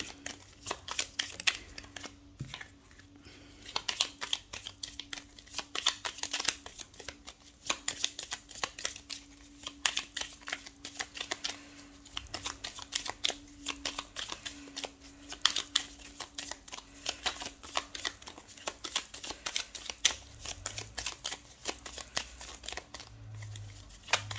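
Tarot cards are shuffled and drawn in rapid, papery riffles and slaps, a steady run of crisp flicks close by with a low hum underneath.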